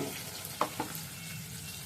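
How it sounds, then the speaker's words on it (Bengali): Spiny gourd pieces frying in oil, a faint steady sizzle with a couple of quick utensil clinks. "কাঁকরোলটা একটু ভালো করে ভেজে নিতে হবে"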